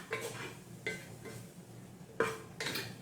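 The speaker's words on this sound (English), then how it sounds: "now I want to give this all a good stir" A spoon scrapes and knocks around a pot of Moroccan harira soup with spices blooming, making several separate clinking, scraping strokes about a second apart, close and moderately loud, with no talking.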